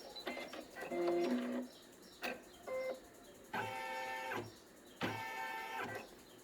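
Embroidery machine stitching a unicorn plush's snout placement line, with close mechanical whirring bursts starting and stopping in a stop-go rhythm, alone without talk.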